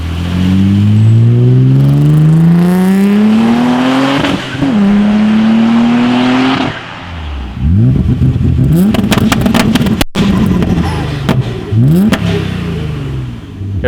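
A 1987 VW Scirocco fitted with an Audi S4 2.7 twin-turbo quattro swap revs hard and loud up close, the engine pitch climbing through several long pulls before dropping into choppier blips and bursts.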